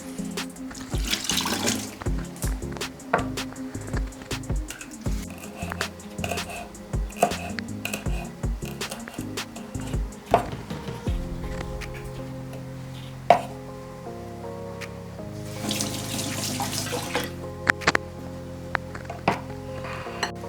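Running kitchen tap water pours over fresh dhania (coriander) leaves being washed at a sink, a steady splashing stream with brief pauses, clatters and handling noises close by.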